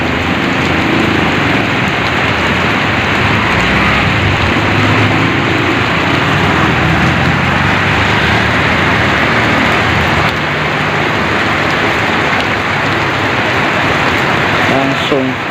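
Steady morning rain around seven o'clock, a loud, even wash of drops falling continuously with a faint background hum throughout.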